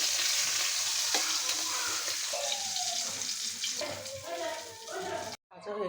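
Hilsa fish pieces fry in a wok of oil, giving a steady sizzle with occasional stirring scrapes. A faint voice murmurs in the background, and the sound cuts off briefly near the end.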